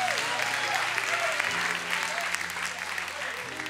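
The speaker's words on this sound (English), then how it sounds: "Come on, give the Lord a hand clap." A church congregation breaks into loud, dense hand clapping and applause in a large room, with voices and a sustained musical tone underneath as the ovation carries on.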